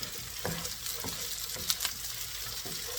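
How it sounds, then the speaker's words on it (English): Cold overnight rice being stirred and warmed in a pan for shrimp fried rice, soft sizzling with several distinct scraping and tossing strokes, close but fairly quiet and with no voices. "So, we are going to stir and warm up the rice"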